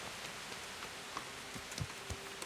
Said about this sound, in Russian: It's pouring down outside.